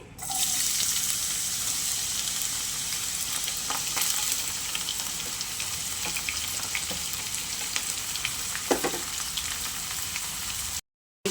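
Onions, green chillies and tomatoes fry in hot oil for a Godavari dried prawn and raw mango curry, a steady loud sizzle running throughout with a few scraping stirs, then stopping abruptly near the end.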